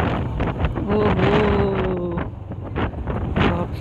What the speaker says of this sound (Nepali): सफ हावा।